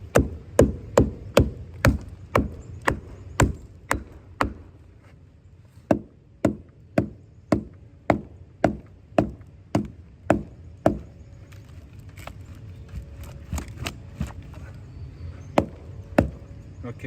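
Hammer striking wood while working a trunk on a roof edge, a series of sharp, evenly spaced knocks, roughly two per second, that come close and loud, pause briefly, then resume more sparsely.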